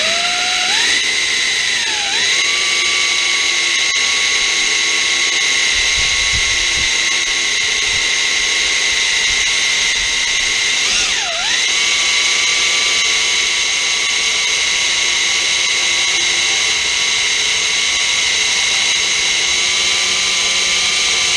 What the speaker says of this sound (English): they're not diamond hard metal, so they're not too hard to drill.